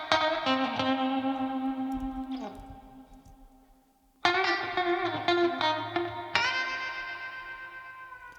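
Lead guitar track with heavy distortion and echo: sustained notes ring out and decay, then fall silent briefly before a fresh burst of picked notes, loud and upfront with no talking.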